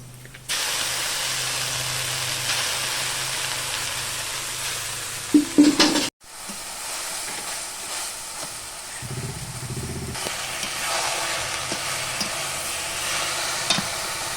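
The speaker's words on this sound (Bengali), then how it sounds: "রসুনটা লাল লাল হয়ে গেছে, এবার আমি শাক দিয়ে দেবো" Leafy greens dropped into garlic already browning in hot oil in a pan, giving a steady close sizzle with a loud burst of crackle and clatter as they go in, then continued frying with stirring scrapes.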